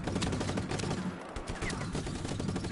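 Rapid gunfire bursts from the Just Cause 3 video game crackle continuously at close range, dense and loud across the whole moment with repeated sharp reports.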